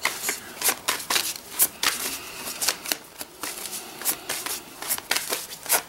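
A deck of tarot cards being shuffled by hand, crisp riffling bursts repeating in quick irregular rhythm, close and clear with no voice over it.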